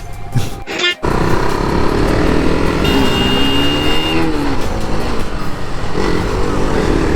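A Kawasaki H2 motorcycle engine starting and then running steadily outdoors, a loud continuous engine drone with shifting pitch, mixed with crowd noise and voices talking over it.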